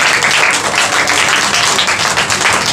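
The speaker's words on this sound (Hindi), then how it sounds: "आपके लिए तालियां बजा देंगे।" An audience at a Bible study school gathering claps for a girl, a loud, close, continuous patter of many hands throughout the short stretch.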